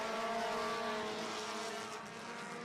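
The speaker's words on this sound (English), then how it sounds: "Alan Boyd going into 3 and 4. Hey, listen, the 19 probably the fastest car out there right now as he slides around Boyd, takes the race lead." Race cars roar around a track during a feature race, a continuous layered engine drone at moderate distance with no break.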